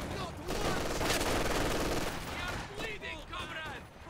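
Dense burst of T-70 tank barrage gunfire in a tank strategy video game, a rapid rattling volley of shots layered over battle noise, with a voice talking over the opening.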